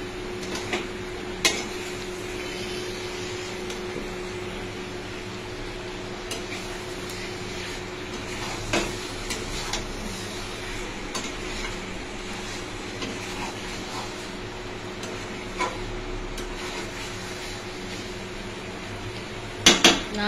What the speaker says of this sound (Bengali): আলুটা কষানো হচ্ছে, আলু দিয়ে কষানো হবে।